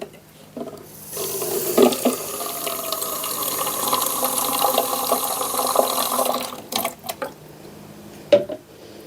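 Water runs from a tap into a sink while cleaning make-up brushes, a steady loud gush lasting several seconds before cutting off, followed by a few brief splashes and clunks.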